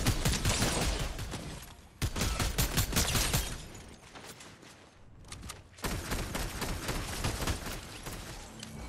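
Bursts of rapid gunfire in a Fortnite match crackle loudly in several dense volleys, separated by brief lulls, with no voices over them.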